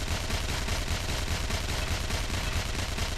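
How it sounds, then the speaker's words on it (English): Continuous barrage of cannon fire in the online video game TERA: dense, steady rumbling blasts packed closely together without a break, loud and sustained, with no voices. "Letting the cannon fire kind of go through"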